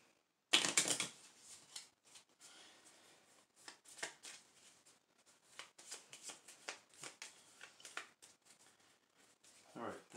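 A deck of playing cards is shuffled during a Clue board game session at home, with a loud riffle at the start followed by scattered card flicks and handling sounds, and voices talking in the background.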